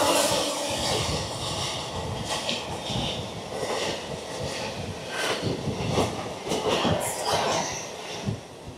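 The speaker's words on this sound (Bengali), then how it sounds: "আমাদের ট্রেন এখন শিয়ালদা স্টেশনে ঢুকছে।" A crowded local train pulls into Sealdah station in Kolkata, a loud continuous rumble and rattle of the carriages with shifting clatter and bursts of noise, faint voices mixed into the din.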